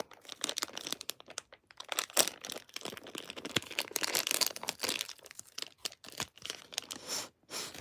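Mochi packaging torn open up close, a quiet run of crinkling and tearing plastic with short crunchy bursts and brief pauses, with no talking.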